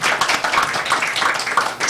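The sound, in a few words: applause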